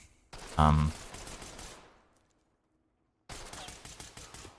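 Gunshots in the tactical shooter Ready or Not, a loud sharp burst near the start fading out, then another burst of firing after a short silence.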